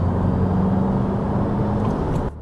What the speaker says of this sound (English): Sometimes you just have to get into a car and go for a rip.